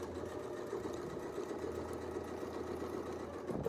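Sewing machine stitching a quilt, its needle running in a steady, fast, even hum-and-clatter throughout, close and moderately quiet, with no talking.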